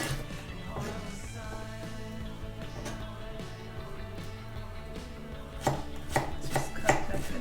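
A knife chops an onion on a board at home, a series of close, sharp taps that grow quicker and louder toward the end over a quiet background with no speech.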